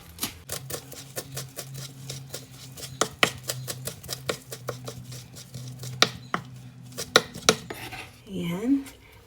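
A knife chopping mint and parsley small on a cutting board for taboulé, a brisk run of sharp, close knocks at an uneven rhythm with occasional louder strikes, ending in a short scrape.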